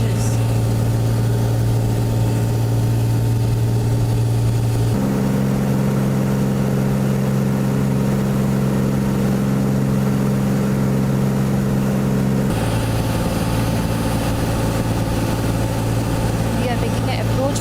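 An aircraft piston engine runs at 2300 RPM in flight, a loud, continuous droning hum whose pitch shifts twice as the power setting changes.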